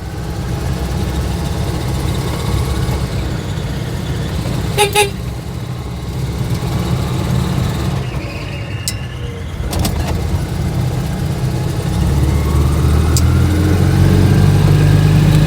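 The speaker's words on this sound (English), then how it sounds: "The belts are a bit squealy because she's a bit cold." An Invacar with a cold engine running, a steady close engine drone with a thin high belt squeal over it, plus a few brief sharp clicks and rattles partway through, no talking.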